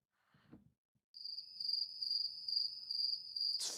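Steady, continuous cricket chirping rings out alone after a brief soft rustle, holding at moderate loudness for several seconds with a faint low background murmur beneath.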